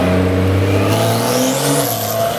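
Porsche Carrera S sports car driving past, its engine a steady loud drone with rising pitch as it nears and moves away, filling the whole clip without talk.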